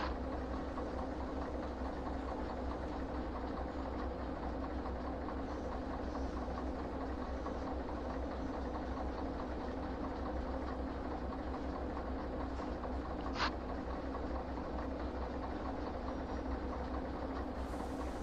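A locomotive engine runs in the Derail Valley train simulator game, a steady, unbroken low drone with a faint rumble that holds evenly throughout, broken only by a single short click near the end.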